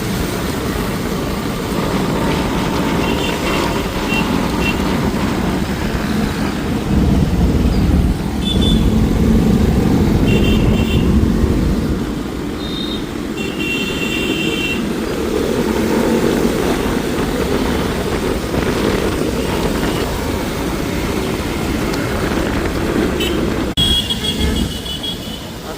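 Many motorcycles of a 200-plus bike Republic Day rally, Ride for Nation, approaching from behind on a city road in Nashik, a steady loud engine roar and road rumble throughout with swells of nearby bikes.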